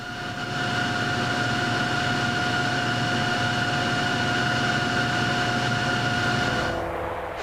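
A Beech Starship aircraft flying at the Farnborough air show, a steady whining engine tone with a broad rushing roar, sustained at moderate distance before cutting off near the end.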